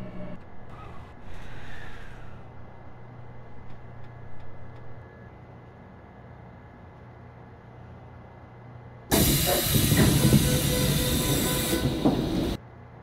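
A Seoul Metropolitan Subway Line 9 train running from Gaehwa toward Central Veterans Hospital: a steady rumbling ride with faint tones, then a sudden loud burst of roaring, hissing wheel noise for several seconds before it drops away.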